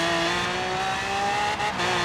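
A tuned 2000-horsepower Lamborghini Aventador accelerating on the Goliath race in Forza Horizon 3, its engine a loud, sustained, steady high-revving roar up close with a brief dip near the end.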